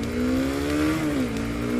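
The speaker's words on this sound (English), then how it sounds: "my video showing my motorcycle, it's a Honda CB300F" A Honda CB300F, a small street motorcycle, revving its engine close by, the pitch holding steady, then rising and dipping briefly before settling.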